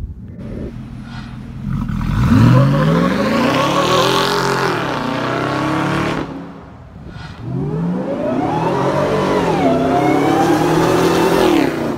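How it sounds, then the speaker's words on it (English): A supercharged Ford F150 with a true dual Xforce Varex exhaust revs hard, climbing to a loud roaring whine, dropping, then surging again in long sweeping pulls close by, with no talking. "I'll do a rev clip for you with it open and close coming up next"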